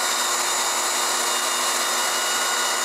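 A PUMA PM-1016BL 16V cordless drill in low gear at torque setting 7 runs steadily, whirring continuously as it drives a 3-inch screw into wood, loud and close with no talking.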